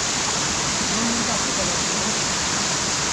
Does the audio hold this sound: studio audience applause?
no